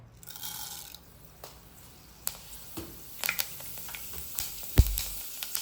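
Fenugreek seeds dropped into hot oil crackle and sizzle with scattered small pops, starting faint and growing busier, with one louder clack near the end.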